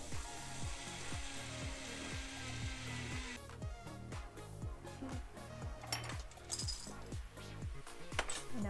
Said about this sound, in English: I'm putting them in a coffee grinder to make them into a powder.